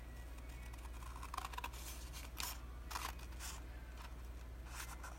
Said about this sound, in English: I'll show you with scissors